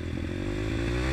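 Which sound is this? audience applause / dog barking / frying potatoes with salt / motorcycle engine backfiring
motorcycle engine backfiring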